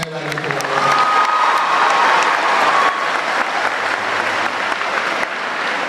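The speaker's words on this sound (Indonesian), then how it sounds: "Kita kasih tepuk tangan sekali lagi." Audience applause at a church youth gathering, a steady dense wash of many hands clapping that starts with brief talk and carries loud and even for several seconds, with a few faint voices mixed in.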